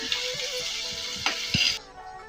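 Onions sizzle and fry in a pan while being stirred, a loud steady hiss with scraping knocks from the spoon, louder near the end before a sudden drop, no talking.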